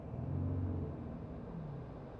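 A car engine revs once while a diagnostic scan tool reads live data: a low, steady rumble swells briefly early on, then settles back to a droning idle.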